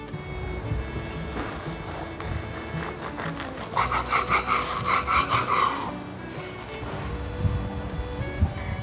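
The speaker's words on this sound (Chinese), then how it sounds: "刚刚切下去，好酥脆的声音哦" A knife saws through golden pan-fried vegan toast with a crisp, dry crunch. Steady scraping runs throughout and grows louder and denser near the middle before easing off. No one speaks.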